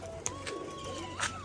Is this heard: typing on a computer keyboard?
no